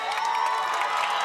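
A crowd cheers at a high school football game between Brawley and Holtville, with a continuous bright roar of many voices, shouts and whoops pulsing steadily through a short burst.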